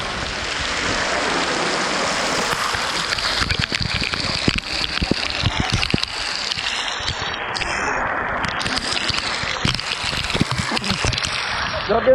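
Waterfall pouring down at a swimming spot near Chichen Itza, a steady, loud broadband rush of falling water filling the whole scene without pause, with occasional splashes and faint voices mixed underneath.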